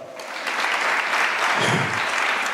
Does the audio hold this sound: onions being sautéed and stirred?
no